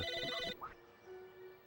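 Telephone ringing in Psychonauts, a bright electronic ring pulsing for about half a second before cutting off sharply, leaving a faint hum.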